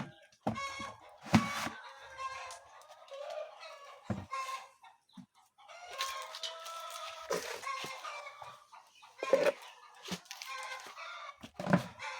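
Old layer hens cluck and squawk in bursts close by, several birds overlapping in an irregular, busy chorus with short sharp calls scattered throughout.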